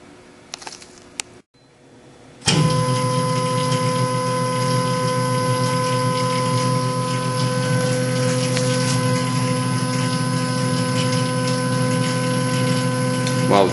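A Tormach PCNC 1100 CNC mill fitted with neoprene chip guards runs through its axis motions. After a brief lull, a loud, steady motorized whir starts up and keeps going without a break.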